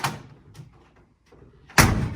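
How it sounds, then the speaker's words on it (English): The door of a 1968 Ford Mustang, 302 V8 with a 4-speed manual, opens with a quiet latch click, then after a pause swings shut with one loud, solid slam. "We'll open and close this door for you."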